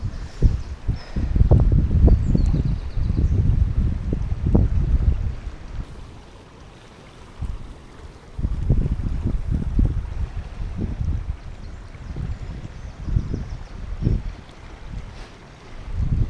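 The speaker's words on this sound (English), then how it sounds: "it's still very windy here as well." Gusty wind buffets the microphone at a riverside during fly fishing, coming in strong low rumbling bursts with a quieter lull midway before the blustering resumes.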